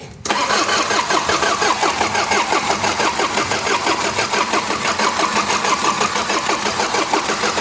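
An Isuzu 4HG1 diesel engine cranking and catching, settling into a steady rhythmic clattering idle that stays loud and close.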